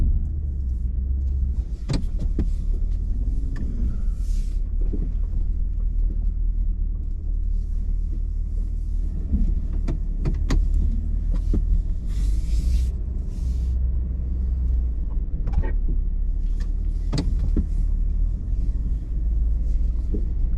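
A gas-engined Ford Super Duty pickup tows a heavy load in first gear with a manual selection, producing a loud, continuous low engine rumble inside the cab with occasional clicks and knocks, no talking.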